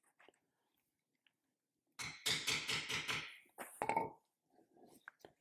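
A bevel tool tapped along leather, a quick run of about eight sharp, close knocks followed by a couple of louder strikes, with quiet gaps before and after.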